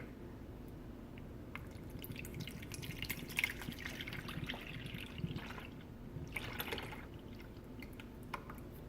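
Evaporated milk poured into a bowl for tres leches, a faint steady trickle and dribble of liquid with a few soft splashes, no talk.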